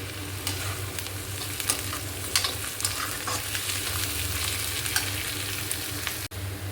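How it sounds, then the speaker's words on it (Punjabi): Spices and curry leaves roasting in a pan give a continuous loud sizzle with scraping stir strokes running through, close up and without talk. "ਹੁਣ ਇਹਨਾਂ ਸਾਰੇ ਮਸਾਲਿਆਂ ਨੂੰ ਆਪਾਂ ਚੰਗੀ ਤਰ੍ਹਾਂ ਨਾਲ ਨਾ ਸੇਕ ਲਵਾਵਾਂਗੇ"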